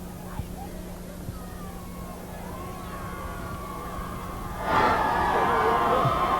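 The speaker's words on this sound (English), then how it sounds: "The Quincy faithful giving a nice cheer to the Quincy defense as they go over for the timeout." Football crowd at a 1996 Thanksgiving high school game between Quincy and North Quincy, a distant murmur that swells into a loud burst of cheering for the Quincy defense near the end.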